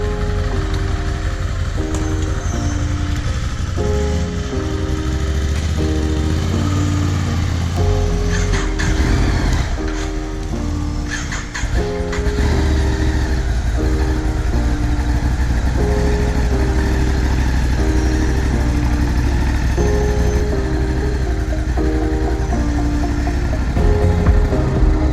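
A Ducati Scrambler 1100 Sport Pro motorcycle ridden through a city, its engine droning steadily and loudly throughout with shifting tone as it accelerates and eases off, with a brief dip in the middle.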